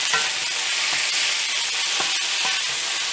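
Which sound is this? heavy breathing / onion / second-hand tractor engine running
onion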